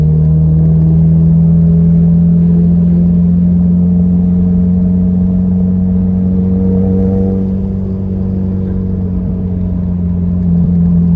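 A 29-year-old Audi B5 with a turbo, tuned exhaust and short-shift shifter drones steadily and loudly from the cabin while driving, with a deep constant engine hum and a slight dip in revs partway through.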